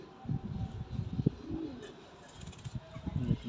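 High flying pigeons coo in a loft, their soft, low, throaty calls rising and falling in a steady murmur. Faint rustling and room noise sit underneath.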